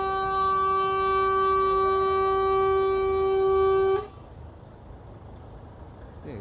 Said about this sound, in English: I don't think it is Trucker Tim, I think it's somebody else who's got the same air horn.